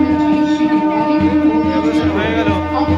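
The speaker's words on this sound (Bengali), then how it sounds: "জয়রামবাটি স্টেশন ছেড়ে বেরিয়ে যাচ্ছে বাঁকুড়ার পথে সেই প্রথম উদ্বোধনী ট্রেন।" An inaugural passenger train pulls out of Jayrambati railway station with a sustained horn-like tone and rhythmic rolling beats. The sound is close and steady through a short three-second stretch.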